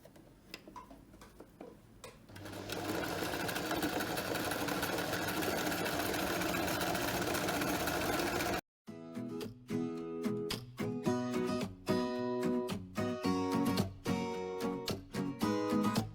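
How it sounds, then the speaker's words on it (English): A sewing machine stitches the inseam of pressure garment pants, running in steady, continuous bursts for several seconds, then giving way to a more rhythmic, patterned stretch that may carry other sound. "when you start sewing, you want to start from the inner crotch area and sew downward towards the bottom of the pants leg"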